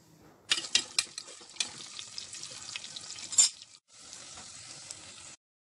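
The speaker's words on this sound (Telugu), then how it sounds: "కరివేపాకు వేసి ఫ్రై చేసుకోవాలి." Onions, cumin and curry leaves sizzle hard in hot oil in a pot on a stove, with spoon stirs and light clinks. The frying goes quiet for a moment, then the sizzle resumes steadily.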